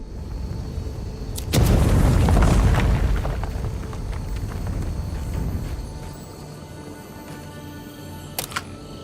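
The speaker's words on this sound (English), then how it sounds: "Smoke grenade." A smoke grenade bursting in the game Avowed: a sharp click, then a heavy whooshing boom that hisses and slowly fades over several seconds, with a couple of faint clicks near the end.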